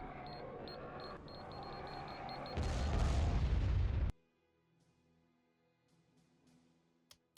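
In the Star Wars: Empire at War Thrawn's Revenge game, a bombing run sets off a dense roar of rumbling explosions that swells loudly over beeping interface tones and then cuts off abruptly to near silence.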